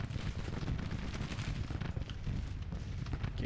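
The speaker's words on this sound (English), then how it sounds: "Start bombarding town." Artillery bombarding a town in the Civil War game Grand Tactician: a continuous heavy rumble of booming cannon fire with dense overlapping blasts.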